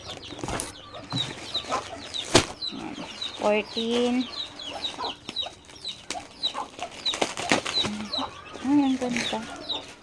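Chickens cluck and chatter repeatedly nearby, mixed with occasional thumps and people talking over them.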